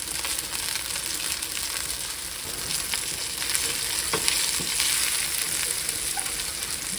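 Minced garlic and ground cumin fry with chorizo, jalapeno and habanero in a hot pan for a chili, a steady close sizzle with a few faint utensil clicks, alone and without talk.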